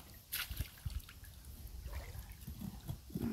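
Water trickles and splashes softly along a riverbank during repair work, a faint, irregular patter of small gurgles and drips with scattered light knocks, close by and not very loud.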